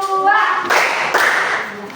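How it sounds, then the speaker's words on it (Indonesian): Schoolchildren in a classroom clap for a group's presentation, two or three short bursts of rhythmic clapping following a voice, close and fairly loud. "tepuk tangan dong untuk kelompok 4"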